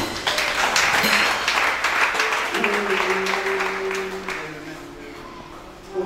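A church congregation applauds to acclaim the Lord, with dense sustained clapping that swells and then slowly fades, while a voice and faint instrumental tones carry under the crowd.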